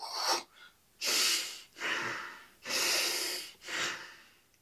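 Bellows breathing: five forceful, rapid nasal breaths alternate in a rhythmic snorting pattern, each a loud rushing burst of air with short pauses between.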